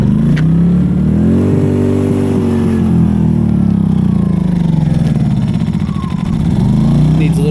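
Small Powerhorse inverter generator cold-starting in winter, its engine churning and building to a steady, loud near running drone with rising and falling pitch as it catches and settles, a choke adjustment needed.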